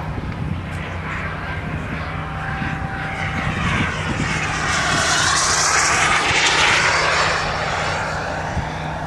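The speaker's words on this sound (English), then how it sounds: "And McKesney now on the deck with the F9F Panther." A large radio-controlled F9F Panther model jet, weighing roughly 32 to 35 pounds, makes a low pass right on the deck. Its turbine roars loudly and swells in a sweeping whine as it rushes by, then fades away.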